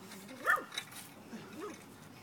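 A dog indoors at a house gives two short yelping barks, the first louder, about a second apart, against a quiet room background.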